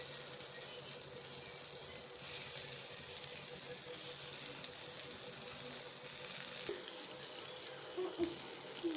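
Goat brain sizzling and frying in about a tablespoon of oil, a steady close crackling hiss that runs through the whole stretch with slight surges and no voices.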